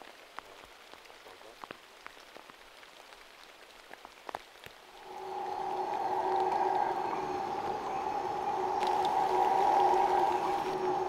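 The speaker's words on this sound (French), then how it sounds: "Mais là, on entend les singes hurleurs." Distant howler monkeys roar in a sustained, droning chorus over pattering jungle rain, rising after a few seconds of rain alone.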